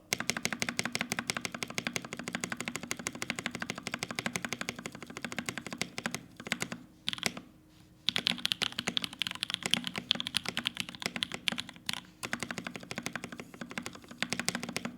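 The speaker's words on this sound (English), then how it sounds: "But here's the spacebar." A mechanical keyboard spacebar is pressed over and over in a fast, steady rhythm of deep, close thocks, with a couple of brief pauses.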